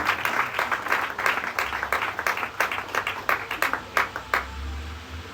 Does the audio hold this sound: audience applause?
yes